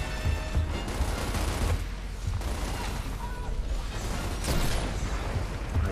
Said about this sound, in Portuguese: O que eles estão atirando?